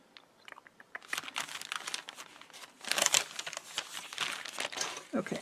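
Paper lunch bags being folded and creased with a bone folder, giving close, crisp crinkling and scraping in uneven bursts, louder toward the middle.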